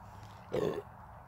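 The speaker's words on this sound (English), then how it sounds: "I need a fucking real burp." A single short, low guttural burp from a man drinking a 40 oz Mickey's malt liquor outdoors, close and moderately loud, lasting about a quarter second amid quiet background.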